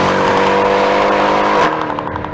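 Mercedes-Benz C63 AMG coupe accelerating hard, its engine note rising loud and close before a sharp upshift crack near the end, then pulling on again.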